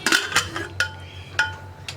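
A pressure cooker lid clanks open after three whistles on a batch of potatoes and onions, giving several sharp metallic clinks spaced across a couple of seconds in a quiet kitchen.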